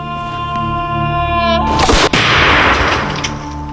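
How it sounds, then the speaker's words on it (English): A Pennsylvania rifle fires a single loud shot: a steady tonal hum runs first, then the sharp blast breaks out partway through and trails into a long rumbling decay. "First we'll try the Pennsylvania rifle."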